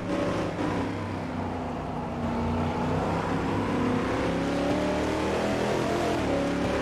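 A race car engine drones continuously in the Automobilista 2 racing game on a wet track, a steady near roar whose pitch climbs and shifts with gear changes and no talk.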